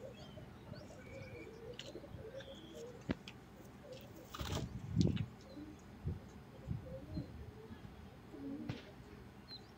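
Soft cooing and occasional chirps rise from pigeons kept for sale at a breeder's loft, close but fairly quiet, with faint background murmur and a few brief louder calls.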